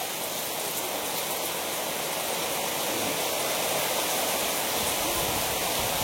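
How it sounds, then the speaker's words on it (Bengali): Heavy rain pours down steadily in cool weather at an outdoor cattle market, a dense, unbroken hiss of water that is loud and close, with no talk over it. "দেখুন পানি হচ্ছে অনেক ভালো, ঠান্ডা ওয়েদার আছে ভালো।"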